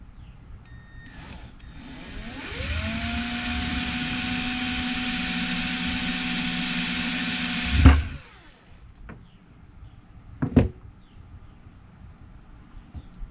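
A power drill whirs up to a steady high whine for several seconds while drilling a hole through a cap on a workbench, then stops with a thud; a sharp knock follows a moment later.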